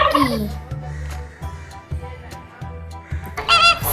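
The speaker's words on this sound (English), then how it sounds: "Turkey." A turkey gobbles in a string of rapid, throaty, pulsing bursts, loud and close, ending with a sharper high call, with no talking.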